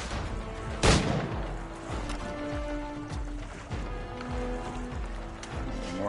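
Gunfire in the video game Assassin's Creed Liberation: one sharp, loud shot cracks out early, then lighter intermittent pops and thuds continue over steady background game ambience.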